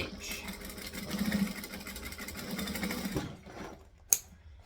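Sewing machine stitching a fabric bag: a close, steady mechanical whir of rapid stitching for about three seconds, then it stops, followed by a quiet pause and one sharp click.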